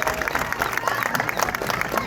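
Crowd applause at a sea lion demonstration at Blackpool Zoo, brisk clapping from an outdoor audience with some cheering mixed in, steady and fairly loud.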